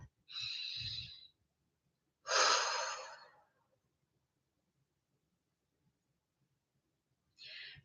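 A deep breath drawn in and let out during a guided relaxation session, with an audible inhale around a second long, a louder, rougher exhale, and another breath starting at the end, close and alone with no talk.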